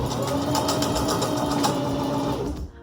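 A sewing machine runs steadily while bracers and arm cuffs are being stitched, a close, even mechanical whir with rapid rhythmic needle ticking that cuts off near the end.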